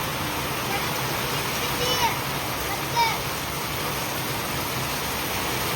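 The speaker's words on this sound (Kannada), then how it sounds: "ನೋಡಿ ಮಳೆ ಹೆಂಗೈತೆ ಹೊರಗೆ" Heavy night rain pours outside a leaking house, a dense steady hiss of water throughout, with a few faint voice-like chirps on top.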